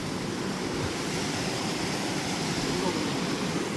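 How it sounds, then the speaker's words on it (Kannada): Stream water rushing along toward a waterfall, a steady, loud broadband wash with no break, heard close by outdoors. "ಇದರದೇ ನೀರು ಹೋಗುದು ಅನ್ಸುತ್ತೆ ಫಾಲ್ಸಿಗೆ"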